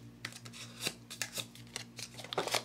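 A bone folder works paper flower petals for a Mother's Day box craft, giving soft, uneven scraping and rustling strokes of paper, close and quiet, in irregular bursts with short pauses.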